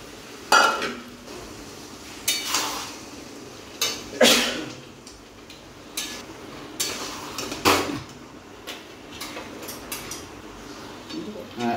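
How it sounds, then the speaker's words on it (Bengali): Chicken pieces sauté in a pan over high flame while being stirred. Intermittent scraping and clinks of a spatula against the pan rise over a low, soft sizzle, with no voices. "এবার আমি সুন্দর করে এটাকে কষাবো"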